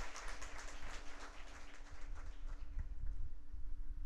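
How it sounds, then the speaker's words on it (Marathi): Audience applause at the inauguration of a film festival in Barshi, a faint, distant patter of many hands clapping at a steady level for a few seconds. "एकदा जोरात टाळ्या झाल्या पाहिजे सरसाठी"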